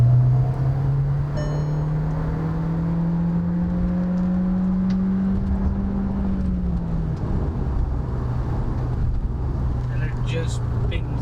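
Volkswagen Virtus GT petrol engine pulling hard in sport mode, a steady droning hum that rises smoothly in pitch, then dips as the gear changes. The engine note holds close and constant, with someone talking over it.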